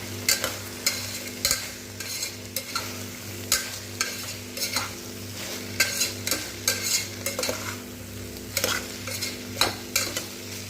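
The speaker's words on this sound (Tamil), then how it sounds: "பெரட்டிட்டு உடனே நம்ம கட் பண்ணி வச்சுருந்த பீட்ரூட்டு உருளைக்கிழங்கையும் நான் சேர்த்துக்கிறேன்." Cut beetroot and potato pieces stir-fried in a pan for a beetroot kuzhambu, with a steady sizzle under repeated scraping stirs of a spatula, close and fairly loud.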